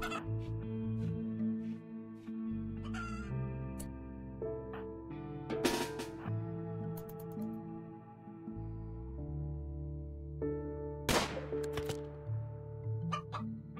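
Chickens clucking in the video game RimWorld, with repeated short clucks and squawks over steady layered tonal game music, close and clear, no talking.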